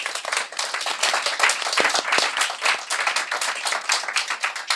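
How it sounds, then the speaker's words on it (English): A live audience at a Cambridge technology event claps for a panel, with sharp individual hand claps standing out from a dense, steady round of applause close by. "So Umaima, Adam, Martina, Jamie, please give them a round of applause."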